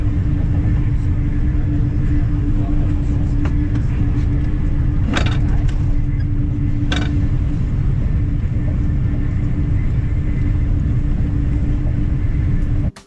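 Steady loud low rumble inside a Eurostar E300 high-speed train cruising at 300 km/h, with a constant hum and two brief sharp whooshes or clunks partway through.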